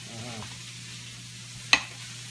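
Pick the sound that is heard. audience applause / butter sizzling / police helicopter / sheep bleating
butter sizzling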